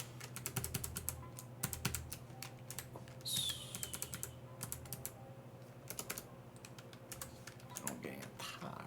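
Rapid typing on a computer keyboard, close and crisp, with irregular bursts of key clicks and occasional heavier key thumps, running under a faint background hum throughout.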